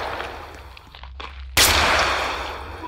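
A single sharp gunshot rings out in a Roblox tactical shooter game, a loud sudden blast with a long decaying tail, preceded by quieter footsteps and movement.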